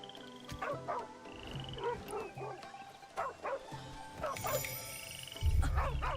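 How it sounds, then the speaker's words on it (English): A dog barks repeatedly in the video game Where Winds Meet, a series of clear yipping barks at moderate distance over game music and ambience. "Where is that doggy? I hear the doggy."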